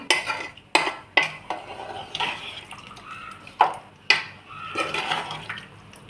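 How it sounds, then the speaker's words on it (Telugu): Chicken curry stirred in a pot with a metal spoon: repeated close scrapes and clinks against the pot amid wet, sloshing liquid, in an irregular rhythm with no talk. "ఒకసారి కలుపుకుందాం."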